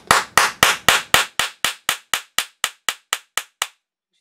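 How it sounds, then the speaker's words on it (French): A hammer taps a metal punch through a fabric strap to set a rivet, striking about fourteen sharp, evenly spaced blows that gradually grow quieter and then stop. "Et je vais venir prendre mon marteau. Et du coup, je vais taper tranquillement."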